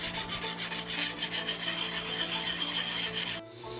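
A file scraping across a freshly quenched 5160 steel knife blade to test its hardness: rhythmic, close rasping strokes with a skating, glassy edge, ending abruptly near the end.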